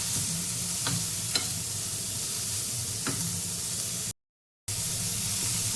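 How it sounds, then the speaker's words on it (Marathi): Carrots being sautéed with onion in a pan for a momo filling: a steady close sizzle with a few sharp spatula scrapes, broken by one brief moment of silence before frying resumes. "गाजरी दोन तीन मिनटं परतून घ्यायचे आहे आपल्याला कांद्यासोबत"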